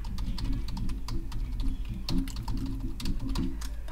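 A password being typed on a computer keyboard while Linux software is installed and set up, heard as a steady, close stream of quick key clicks with no pauses.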